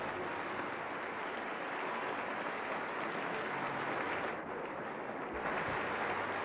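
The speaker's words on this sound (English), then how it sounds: "as the applause continues in the auditorium" An audience applauds steadily in the UN General Assembly Chamber after Joan Sutherland's 1988 opera recital, a dense, continuous wash of clapping that stays even throughout with no voices.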